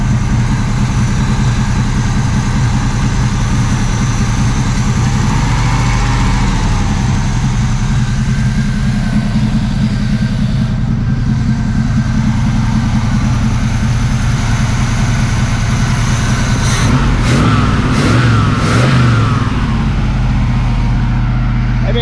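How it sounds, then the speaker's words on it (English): A 1979 Z28 Camaro V8, long abandoned and running rough as if missing, idles loudly and close with a lumpy low rumble, rising briefly into a few revs near the end. "Maybe it just needs to warm up a minute."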